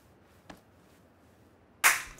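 A single sharp gunshot from an online shooter game cracks out loudly after a faint earlier tap and mostly quiet background, then decays briefly.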